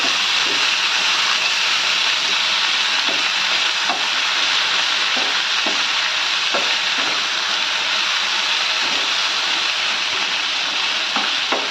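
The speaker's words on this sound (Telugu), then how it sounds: "పాలకూరను వేసి ఒకసారి ఈ విధంగా చక్కగా మిక్స్ చేసుకోవాలి." Spinach stirred and cooked in a hot pan gives a steady, loud sizzle and hiss, with soft scraping clicks from the stirring scattered through it and no talking.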